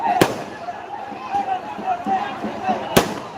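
Firecrackers burst at a village temple festival in Tamil Nadu with two sharp, loud cracks a few seconds apart, amid a busy crowd with people talking throughout.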